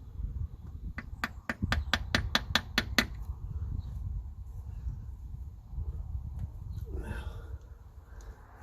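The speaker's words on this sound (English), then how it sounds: "It's just a matter of kind of tapping at them with screwdrivers, trying to straighten" Metal parts on a stripped-down 1954 Ferguson 20 diesel tractor engine are struck with screwdrivers, giving about nine sharp, evenly spaced metallic taps in quick succession, then only faint handling noises.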